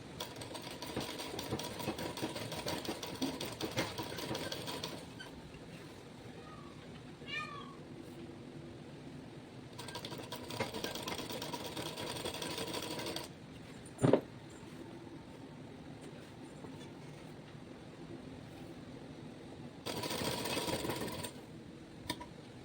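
Sewing machine stitching a lungi in a basic tailoring lesson runs in several short bursts of a few seconds each, separated by quieter pauses, close and moderately loud with no talk.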